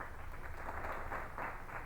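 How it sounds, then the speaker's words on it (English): Crowd applause sound effect played on a game commentary show, a steady dense wash of many hands clapping at moderate level, alone with no talk. "Hey, don't run the applause yet."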